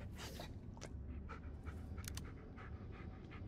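A dog in the Blair Witch video game pants steadily and close, quick rhythmic breaths repeating throughout over a low ambient rumble, with soft footsteps and no speech.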